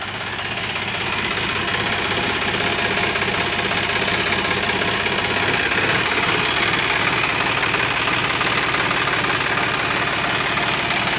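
A John Deere 5104 black-body farm tractor with a new radiator and battery idles steadily, a close, loud, even diesel knock that holds for the whole stretch with no voices.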